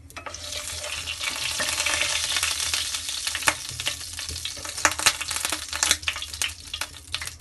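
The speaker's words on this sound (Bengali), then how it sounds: "এখন কিছু আস্ত ফোড়ন দিয়ে দিব।" Whole spices crackle and sizzle in hot mustard oil for a raw mango pickle, a dense continuous frying hiss dotted with sharp pops and stirring scrapes, close and alone without any voices.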